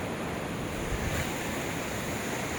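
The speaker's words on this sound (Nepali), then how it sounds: "यसरी यो बग्दैछ अरुण नदी।" The Arun River flows at Chewa Besi in Nepal, making a faint, continuous rushing of water heard from a distance. It is an even wash of sound with no voices over it.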